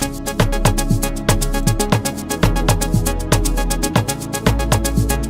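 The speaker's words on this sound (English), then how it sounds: "this is how the bass sounds like" A deep bass line drives an FL Studio 3-step beat, pulsing in steady repeated notes under crisp, evenly spaced percussion hits, loud and continuous throughout.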